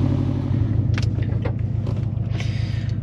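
A Subaru WRX STI with full bolt-ons and a dyno tune idles during a cold-start warm-up on a chilly day, a steady low, throbbing rumble with a few faint clicks over it.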